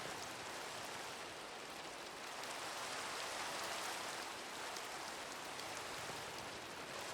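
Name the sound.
rain in the video game Minecraft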